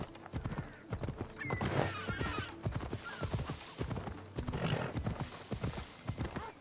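Horse hooves clip-clop at a steady walking rhythm in the video game Assassin's Creed Odyssey, close and clear, with a few short whinny-like calls and soft ambient game sounds in between.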